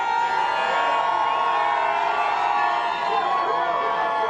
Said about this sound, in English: there's the reaction of the crowd. Certainly a lot of people excited.